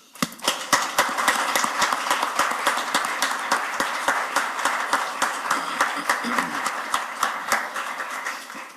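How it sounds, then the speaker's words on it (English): Applause at a city council meeting after a motion carries: a steady room full of hand claps, dense and continuous for several seconds, loud and close with no talk over it. "how about a round of applause for Curt?"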